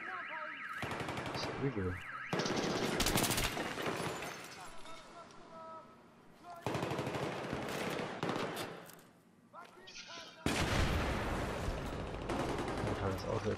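Automatic weapon fire in Battlefield 3, set in a parking garage, comes as long loud bursts with breaks between them and an explosion-like blast near the end. Someone speaks briefly over the shooting.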